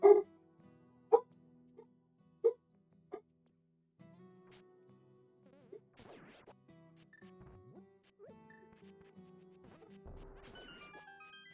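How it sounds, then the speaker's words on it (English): Dogs barking indoors at a delivery, a few sharp loud barks at the start followed by quieter whimpers, yips and scattered knocks, faint and intermittent, with no talking. "something's getting delivered, so my dogs are going absolutely nuts"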